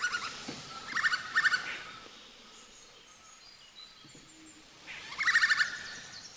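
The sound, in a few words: great slaty woodpecker loud call at dawn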